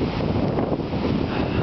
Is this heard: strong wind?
yes